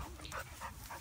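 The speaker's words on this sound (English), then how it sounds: "He's a really goofy dog." A dog pants in quick, breathy puffs with a faint whimper mixed in, soft and close over about a second.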